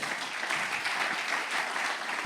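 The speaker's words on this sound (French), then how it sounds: "Bravo, ça aussi, on peut applaudir." Steady applause from a conference audience at a parasport talk, a dense even wash of clapping heard from a distance, fairly soft and unbroken.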